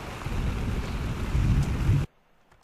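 Heavy rain and rumbling thunder fill the game Minecraft: Story Mode, a dense, loud, continuous wash that cuts off abruptly near the end.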